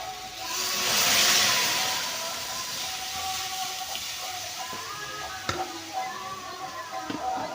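Steady sizzling and bubbling from a pan of jute greens, swelling briefly near the start as boiled broth goes in, then settling into a constant hiss with a faint clink.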